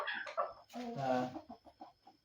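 A handsome rooster at a poultry sale gives a run of short clucks and a longer throaty call, close and fairly loud, with people faintly talking nearby.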